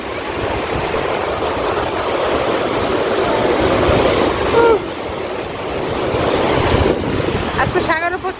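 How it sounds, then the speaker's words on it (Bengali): A strong sea wind blows across the microphone on a beach in Lebanon while waves surge and wash in continuously. The sound is loud and rough, with a brief swell near the middle and faint high chirps near the end. "আজকে সাগরে প্রচুর বাতাস,"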